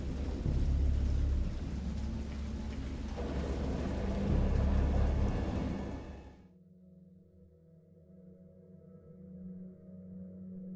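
A storm in the video game Dagon: heavy rain hisses loudly with deep rolling thunder for about six seconds, then drops to a quiet, low rumbling murmur.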